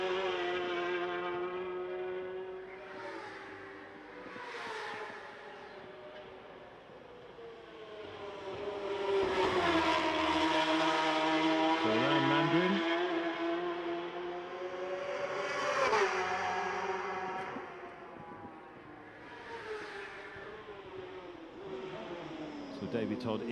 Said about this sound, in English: Davey Todd and Marcus Simpson will be coming around to complete their first laps of this year's Macau Grand Prix